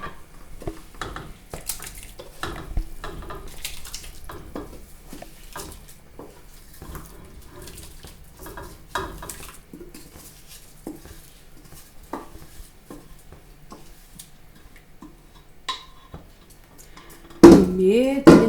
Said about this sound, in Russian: Медленно помешиваем, чтобы крупа не осела.